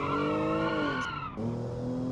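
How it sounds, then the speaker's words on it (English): A car in the Automation game skids into liftoff oversteer on a sharp right-hander, a brief tire squeal over a steady engine drone that dips and resumes. "Now that is some liftoff oversteer again."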